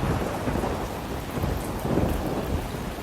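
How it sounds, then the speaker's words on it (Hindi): A cartoon sound effect of heavy, steady rain pours down, with low rumbles of thunder swelling underneath, loud and continuous with no voices. "घर पर आते ही भयंकर बारिश शुरू हो गई"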